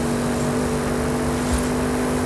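An Audi RS 7 with its 4.0L engine, rated 605 hp, accelerates on a road at night, giving a steady, loud engine drone and road roar that holds evenly throughout with no talk over it.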